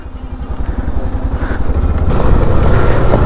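Hero XPulse 200 motorcycle trail riding offroad, a close, loud single-cylinder engine thrumming in uneven pulses and building as the rider throttles up over rough ground.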